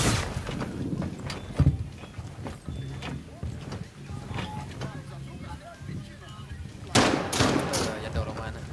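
Gunfire in a shooter game set in a favela sounds as scattered sharp shots and a louder burst near the end, heard under steady talk between players.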